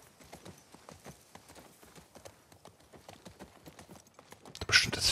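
Horse hooves clip-clop in a steady rhythmic gait in the video game The Last of Us Part II, moderately close, ending with a sudden burst of louder noise.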